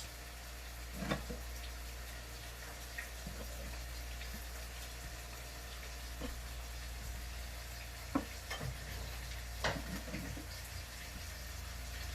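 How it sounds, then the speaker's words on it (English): Onions and garlic sauté in olive oil in a skillet, a low, steady sizzle under a constant hum, with occasional soft clicks and scrapes of stirring. "put a little olive oil in the skillet. just to saute the onions and the garlic for the sauce."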